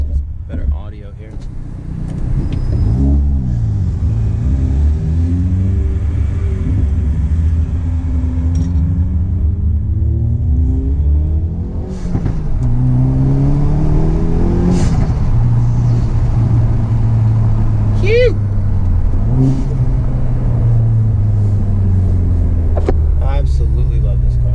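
A Hyundai Veloster N cruises with its windows up, its engine droning low and muffled inside the cabin with a few gentle rises and falls in pitch, under a person talking.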